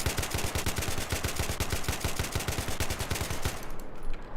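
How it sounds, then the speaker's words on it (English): Rapid bursts of AK-74M tap fire in Battlefield 3, dozens of sharp, loud, closely spaced shots in short controlled strings, continuing steadily before cutting off near the end. "So now I'll use the tap fire with recoil control."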